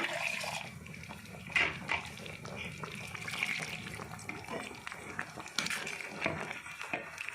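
Water poured into a pan of chicken green masala, giving a steady splashing, trickling wash that runs through the whole stretch at moderate volume, with a few louder clatters from the pan along the way.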